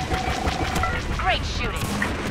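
Rapid laser-like gunfire from fighter ships in a space combat video game, a steady dense barrage with sweeping zaps and small blasts under constant engine noise, with game voices and music throughout.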